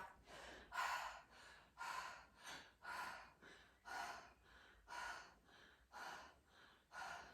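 Steady open-mouth breathing during breath work, with about eight slow, even inhale-exhale cycles drawn into the belly, close and fairly quiet with no talking.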